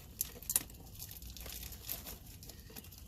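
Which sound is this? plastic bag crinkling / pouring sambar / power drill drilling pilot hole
plastic bag crinkling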